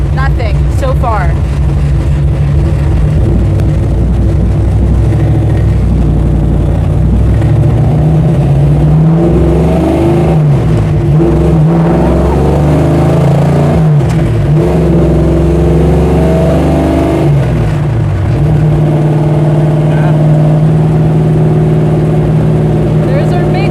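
Big-block V8 in a 1968 Dodge Charger, idling with a deep lumpy rumble and revved in several rising and falling pulls, loud and close throughout.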